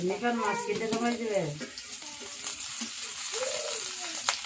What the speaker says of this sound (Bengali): তেল দিয়ে দিতেছে পেঁয়াজ